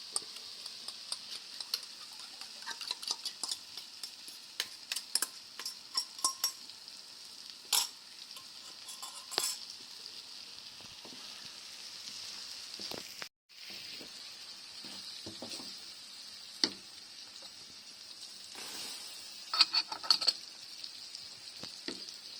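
Eggs and tomatoes sizzle and fry in a pan for Turkish menemen, a steady close hiss with scattered ticks and clicks of stirring, and no talking.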